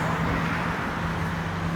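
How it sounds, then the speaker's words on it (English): Cars pass loudly on a nearby road, a continuous rushing roar of tires and engines with a low hum underneath, filling the whole moment with no voices. "now all of a sudden the cars getting all loud"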